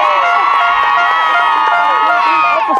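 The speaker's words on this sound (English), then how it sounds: "So y'all clap it up for these boys." A crowd at an 8U youth football upper state championship cheers and shouts continuously, with many high children's voices blending into a loud, unbroken roar.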